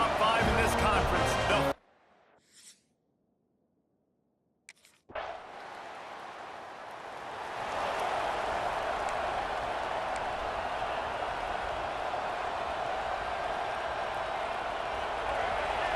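Stadium crowd roar in the NCAA 26 football video game, an LSU Tigers game: a steady, loud wash of crowd noise that swells after a brief near-silent gap and holds loud and sustained to the end.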